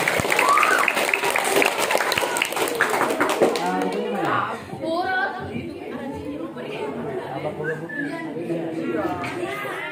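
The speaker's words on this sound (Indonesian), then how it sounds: "Baik, tepuk tangan buat kedua Siti." Audience applause for two students at a motivational learning training at the Mathla'ul Anwar foundation, with loud, dense clapping for about four seconds that fades into lively crowd chatter and children's voices.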